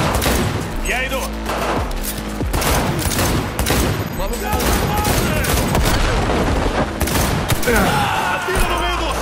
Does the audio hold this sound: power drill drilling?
no